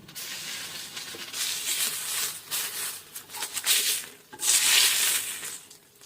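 Hilsa fish heads frying in oil, with bursts of loud crackling sizzle rising and falling irregularly, as if the pieces are stirred or turned, with brief quieter gaps between bursts.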